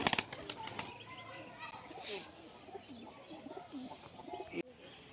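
Desi pigeons coo softly and repeatedly at close range, with a brief flurry of wing flaps at the start and faint voices in the quiet background.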